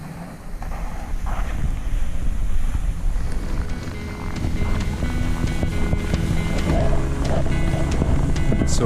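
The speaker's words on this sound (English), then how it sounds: "once you're in the wind, you can really feel it" Cold wind gusts and buffets the microphone on a sunny winter trail beside a lake, a steady roaring rush with some faint higher tones, no talking.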